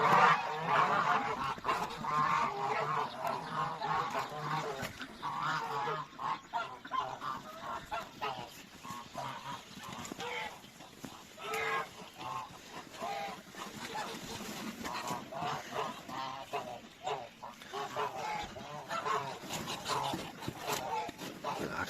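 Geese honking repeatedly at a poultry farm, a busy overlapping chorus of nasal calls running throughout alongside other fowl, with someone talking intermittently beneath the birds.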